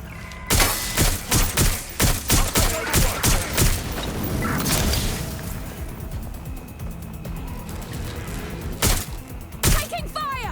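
Gunfire in the video game Watch Dogs Legion: a rapid burst of repeated loud shots, then a rumbling lull and a few more scattered close shots.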